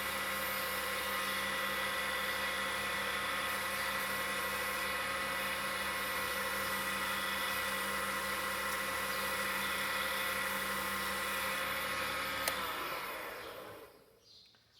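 A wood lathe spins steadily at medium speed while wax is applied to the turning wood, giving a loud, continuous whirring hum with a high whine that holds for most of the stretch, then winds down and fades near the end.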